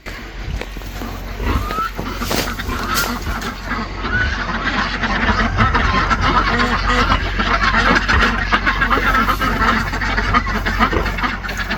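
A homestead duck flock with many drakes quacks repeatedly at close range, with honking calls and some vehicle noise mixed in and a murmur of voices.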